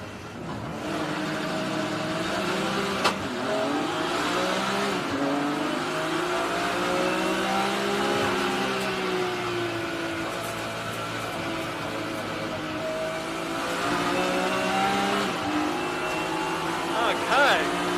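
BMW race cars in a CSCC BMW Championship race start at Oulton Park, heard from onboard: a loud engine revving and climbing through the gears for a sustained stretch, with a driver talking over it.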